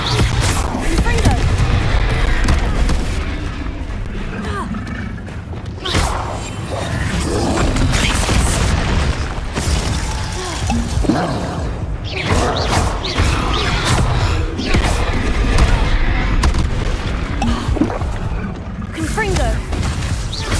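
Repeated Confringo fire-blast spell explosions in Hogwarts Legacy, loud bursts, crashes and whooshes in a dense, continuous barrage of combat effects with a voice shouting spell names over the din.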